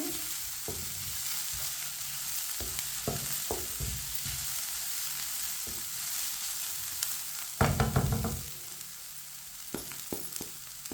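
Chicken cooking in a pan while a spoon stirs it, a steady sizzle and frying hiss with intermittent scraping knocks and a louder flurry of stirring midway, no talking.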